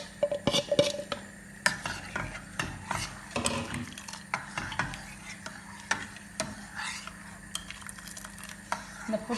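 A spoon stirs steamed puttu in a metal pan, irregular scraping and clinking knocks recurring every second or so, close and moderately quiet, with no talk.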